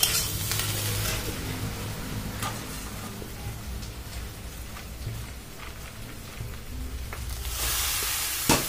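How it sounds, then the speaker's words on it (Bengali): Steady sizzling and scraping as egg and vegetables with chow mein noodles and coriander leaves are stir-fried in a hot pan, continuous and close, with no talking. "ধনেপাতাটা দিয়ে এবার আমি ভালো করে আরও একবার ভেজে নেব"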